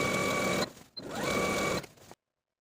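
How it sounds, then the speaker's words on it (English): A sewing machine stitches the hem of a pair of shorts near a serged edge in two quick, steady whirring runs with a short pause between them, then falls silent. "Now I'm going to take it to the sewing machine and sew close to the serged edge"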